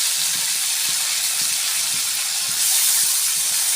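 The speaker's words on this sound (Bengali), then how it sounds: "বেগুন দিয়ে দিলাম। সজনে ডাঁটা, কচি ডাঁটা দিয়ে দিলাম।" Eggplant and tender drumstick pieces fry in oil for a light parshe fish curry, giving a constant loud sizzle with faint rhythmic stirring taps underneath.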